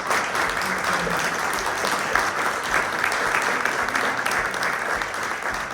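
An audience gives a panel of women architects a round of applause, dense, steady clapping that fills the room for several seconds without a break.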